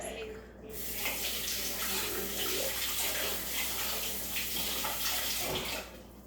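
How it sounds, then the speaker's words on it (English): Water from a kitchen tap gushes steadily for several seconds while something is rinsed under it, close and fairly loud, then cuts off near the end. "Let me rinse it real quick."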